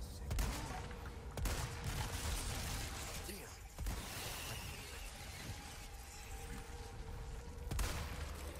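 Rifle fire rings out in the Resident Evil 4 Remake video game, a few sharp, spaced shots cracking over a dense, rumbling game backdrop.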